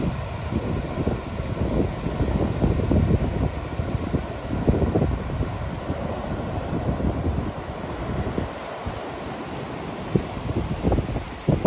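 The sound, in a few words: sea waves and strong wind on Henry Island beach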